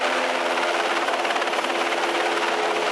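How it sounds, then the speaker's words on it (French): Army helicopter at a full-scale rescue exercise, its steady loud rotor and turbine roar running unbroken throughout with no voices. "Un hélicoptère de l'armée a été dépêché sur place pour évacuer les blessés les plus graves."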